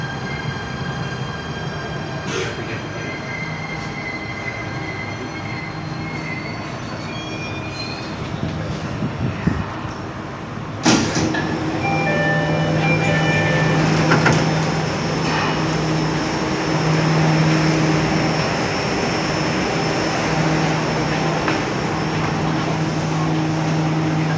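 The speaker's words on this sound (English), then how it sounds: "Now let's wait until the door closes and the train starts moving again." A Jakarta MRT train at a station: doors shut with a brief clunk, then the carriage starts rolling with a steady rising rumble and faint wheel squeal, loud and close, without talk.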